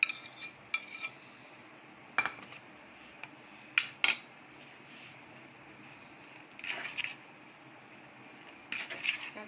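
A spoon stirs boiled chicken with ketchup and chilli sauce in a bowl, giving sparse, close metallic clinks and scrapes over a quiet kitchen background, with no talking.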